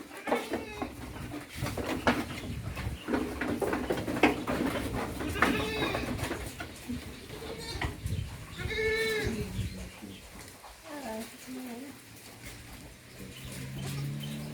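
Meat goats in a clean, airy goat shed bleat repeatedly amid barn bustle, several calls rising at close range, while someone talks over much of it.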